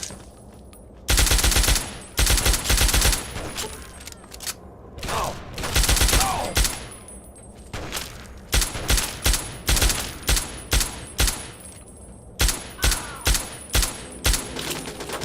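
Gunfire in Fallout 3, loud repeated bursts of automatic fire with rapid rattling shots, pauses between volleys, and a run of evenly spaced single shots toward the end.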